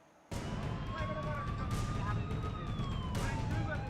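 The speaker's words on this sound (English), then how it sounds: "An ambulance forcing its way through the raging floodwaters in Tripura." An ambulance siren sounds as the vehicle forces its way through raging floodwaters in Tripura, a steady wailing tone over a loud, continuous wash of rushing water and engine noise.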